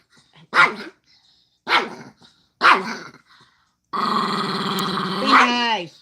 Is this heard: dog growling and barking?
yes